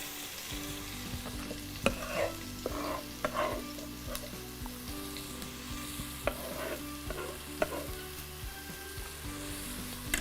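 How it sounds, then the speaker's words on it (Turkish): Onions sizzle in hot oil in a pot on the stove for patates oturtma, with scattered stirring scrapes and clatters over a steady frying hiss, close and continuous. "Önce öndekine yemeklik soğanlarımı atıyorum"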